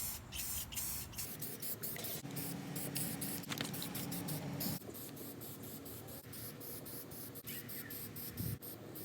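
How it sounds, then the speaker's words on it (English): Spray primer hisses onto a Jeep differential cover in a series of short and longer bursts, close and steady, with faint scraping and handling noises between sprays. "ready to hit it with some primer"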